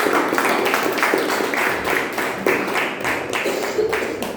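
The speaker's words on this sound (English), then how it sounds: "So please, with a huge round of applause, please welcome Toastmaster Dipanshu." Audience applause at a Toastmasters club meeting, welcoming a speaker to the floor: dense, steady clapping from many hands that holds at an even level throughout.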